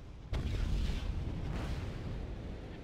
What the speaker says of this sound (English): the enemy just about misses with their artillery